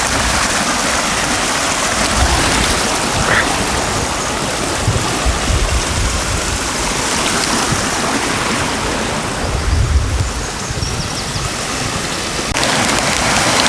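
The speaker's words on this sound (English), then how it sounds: "I can hear sound of water." Steady rushing water fills the whole stretch, a continuous broadband wash from a nearby mountain stream in the Comeragh Mountains, Ireland, with no voices.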